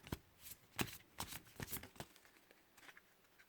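Past life oracle cards are shuffled close by: soft, quick papery riffles and slides in uneven bursts, faint and without speech.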